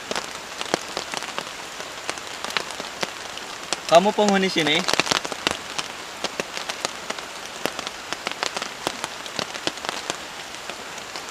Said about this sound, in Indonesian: kedengaran paling kencangnya itu hujan teman-teman